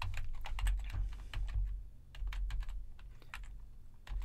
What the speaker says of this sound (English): I'm just going to type in responsibilities.